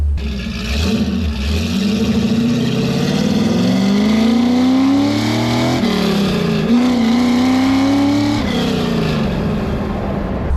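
A Ford FE 390 engine with a valve float problem is held in second gear and revs up to around 5,200 RPM, a loud, close roar that climbs in pitch, dips briefly, then rises again.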